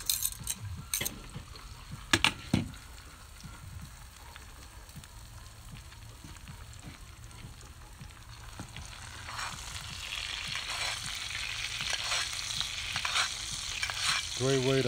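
A porterhouse steak sizzles steadily in a pan while it is basted with a generous amount of butter, with scattered spoon clinks and scrapes over a continuous hiss that grows louder and brighter toward the end.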